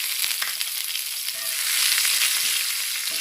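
Chopped garlic, four cloves, frying in hot oil, giving a steady close sizzle that holds level throughout with small crackles and one brief stir partway, no voices.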